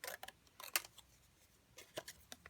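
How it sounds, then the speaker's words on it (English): Scissors trimming cardstock for a paper craft card, a few quiet crisp snips and cuts close by, irregularly spaced with soft handling noise between them. "I'm going to trim this down a little bit."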